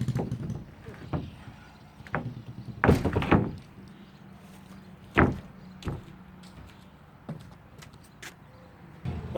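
A flooring board is slid across the framing of a shed being turned into a tiny home, where deck boards are being replaced with flooring: a dull scraping slide with a few wooden knocks and thunks scattered around it, close by.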